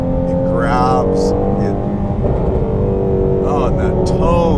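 An all carbon fiber Speedkore-built Shelby GT350R Mustang runs with a loud, steady engine drone under someone talking close to the microphone.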